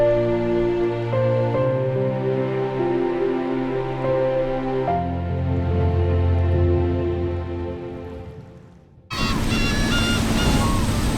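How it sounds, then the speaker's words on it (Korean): Rough sea waves crash and hiss loudly at a tidal bamboo fish weir used for anchovies, surging in abruptly after a stretch of sustained instrumental music. "파도가 심상치 않다."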